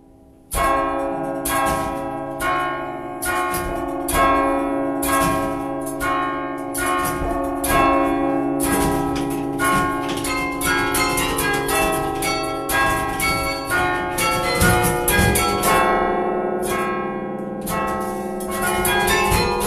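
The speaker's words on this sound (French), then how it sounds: "la première chanson que je vais vous interpréter, je suis souvent heureux quand je joue du carillon" A carillon plays the melody of a song during a concert, its bells ringing loudly and continuously in a dense, overlapping stream of struck notes.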